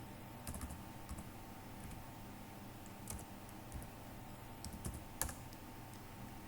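A computer keyboard being typed on to enter a Tally Vault password: quiet, irregular key clicks in short bursts over a low steady hum, with no one speaking.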